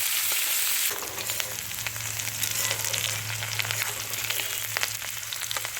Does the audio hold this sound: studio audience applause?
no